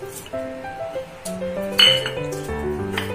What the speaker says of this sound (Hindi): चिप्स को इस बर्तन में, इसके आवाज से ही आप देख लेंगे कितना ही क्रिस्पी बना है।